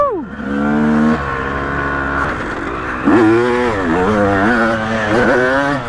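A Yamaha YZ250 two-stroke motocross bike on an MX track revs hard at full throttle, a loud close engine note that climbs, drops and surges again in continuous waves.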